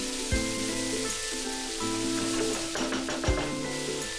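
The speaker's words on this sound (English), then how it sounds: "add 1 cup frozen green peas and fry this for about 2 to 3 minutes" Frozen green peas frying in a pan with softened onion give a steady rain-like sizzle, with a couple of dull knocks from the pan or spoon partway through.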